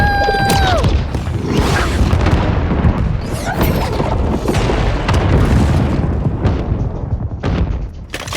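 A control ship is destroyed in a Lego Star Wars video game, setting off loud, deep booming blasts. Crackling debris and sharp bursts follow, with a short descending electronic tone near the start.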